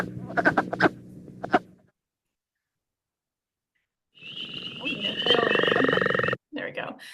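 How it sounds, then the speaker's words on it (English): A burst of clucking, duck-like frog calls, then silence, then a denser chorus of rapid clucking croaks, fairly close and loud. "the wood frog, which sounds like a clucking chickens or ducks"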